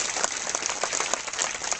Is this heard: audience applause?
yes